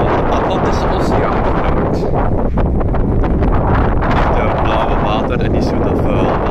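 Strong wind buffeting the microphone on the Atlantic Ocean coast in Portugal, a loud continuous roar with gusty swells throughout.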